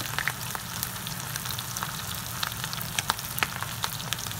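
Shrimp frying in hot oil for a rice bowl, a steady loud sizzle with crackling and sharp pops scattered throughout, close and with no voices.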